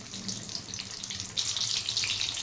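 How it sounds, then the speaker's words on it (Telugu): Capsicum bajji frying in hot oil, with a steady wet sizzle and bubbling hiss that swells louder partway through as the fritters are turned. "ఇట్లా తిప్పేసుకొని మంచిగా ఆయిల్ మునిగేటట్టు మంచిగా కాల్చుకోవాలి"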